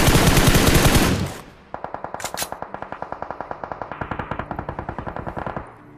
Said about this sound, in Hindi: हर कहीं जहाँ भी देख रहा हूँ फायर तो हो ही रहा है